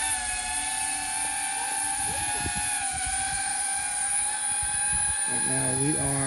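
A Speedybee25 drone on a test flight hovers with a steady, high-pitched whirring buzz of spinning propellers. Faint pitch wobbles and some low background rumble sit under the continuous tone.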